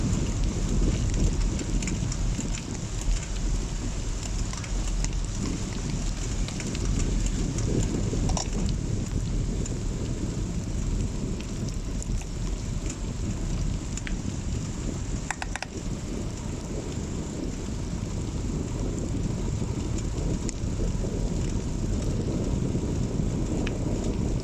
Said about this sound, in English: See, rain is pelting down a bit.